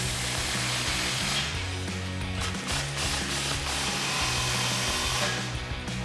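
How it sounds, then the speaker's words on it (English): A ratchet or power tool tightens exhaust clamps during installation of a Borla ATAK cat-back exhaust on a 2024–2025 Mustang GT, a loud continuous mechanical whirring with brief bursts of rapid clicking, close and steady throughout, with no talk. "we're going to tighten these down"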